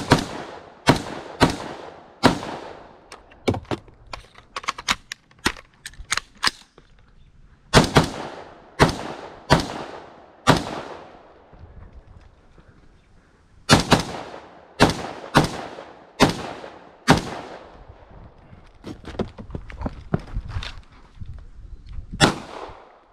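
A P80 Glock 17 pistol fitted with a red dot sight fires at an outdoor shooting match in several quick strings of loud, sharp shots, with short pauses between the strings.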